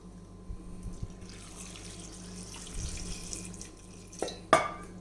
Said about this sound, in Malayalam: ഇതിലേക്ക് നമുക്ക് വേകാൻ ആവശ്യത്തിനുള്ള വെള്ളം ഒഴിച്ചു കൊടുക്കാം